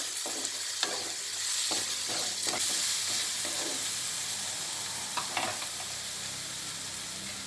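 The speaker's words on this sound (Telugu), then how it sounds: "ఇప్పుడు అల్లం వెల్లుల్లి పేస్ట్ వేయాలా" Ginger garlic paste fries in a pan for gongura chicken curry, giving a loud, steady close sizzle with occasional stirring scrapes and no talk.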